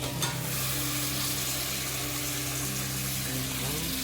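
Tomatoes go into onions already sautéed in a pan for tomato kuzhambu, giving a steady, close, even sizzle with one brief clatter at the very start.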